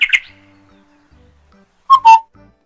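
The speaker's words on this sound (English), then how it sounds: "cuckoo, cuckoo." A cuckoo gives a clear two-note whistled call, loud and close, after a brief chirp at the start and a quiet pause.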